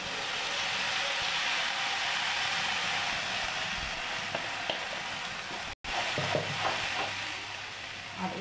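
Ground spice paste goes into hot oil in a kadai, giving a steady broad sizzle that holds throughout, with a brief dropout near the end and some faint clinks after.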